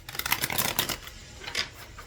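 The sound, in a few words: shuffling tarot cards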